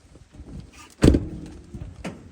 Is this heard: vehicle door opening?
yes